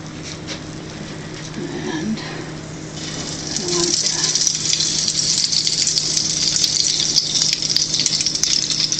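Batter-coated flower blossoms hit hot oil in a pan, giving a loud, steady hissing sizzle that swells and holds after a quieter start, with a voice speaking briefly early on.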